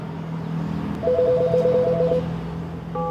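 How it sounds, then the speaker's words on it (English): An apartment door's electronic doorbell or intercom at a Spanish eviction sends out a run of repeated beeping tones, then a fresh tone starts near the end, over a steady low background hum. "They first try ringing the doorbell."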